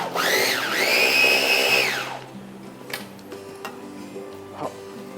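A small blender whirs loudly for about two seconds, mixing mango ice cream into a mango pomelo sago dessert, then stops. Light clicks and taps from handling the container follow.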